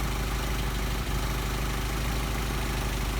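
An engine idles steadily on Solex 44PHH carburetors while the idle mixture screw is adjusted. A continuous, even mechanical hum and rumble holds close and fairly loud, with no voices.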